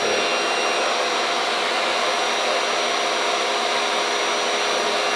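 A RevAir hair dryer running on its high heat setting gives a loud, steady broadband whoosh of blowing air that holds unchanged for about five seconds, close by and with no voices.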